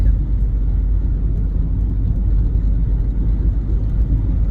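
Steady low engine rumble and road noise inside a moving car, constant and fairly loud with no talking.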